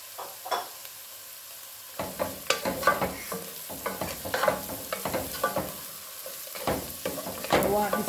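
Mushrooms fry with browned onions in a pan for chicken fettuccine Alfredo, a steady close sizzle broken by the scrape and clatter of stirring.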